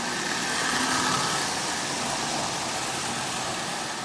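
A Marx 595 toy army train, rebuilt from rusty junk cars and repainted olive drab, runs smoothly on its track with a steady, even whirring and rattling hum, close and constant, with no talking.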